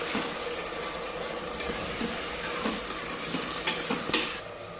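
Tomato and onion fry together in a pan for a mutton kurma, with a steady close sizzle and occasional stirring clicks of a spoon against the pan, no voices.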